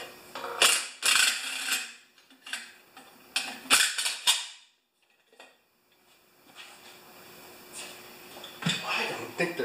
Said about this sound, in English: So 7/16 on a rattle gun.